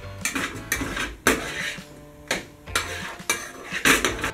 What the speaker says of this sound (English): And stir around the potatoes.